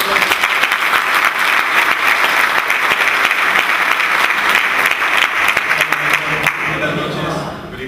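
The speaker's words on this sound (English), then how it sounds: "Give him a round of applause." Loud, dense applause fills a convention hall as an audience claps for a speaker, sustained for several seconds before tapering slightly at the end, with a voice faintly audible beneath the clapping.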